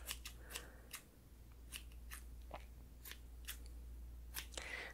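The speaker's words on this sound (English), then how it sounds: "so I'm gonna go ahead and cut it off." Scissors snip a single flyaway strand of hair in a quiet ASMR hair-brushing session, several crisp close-up cuts repeating irregularly over a low steady hum, with no talking.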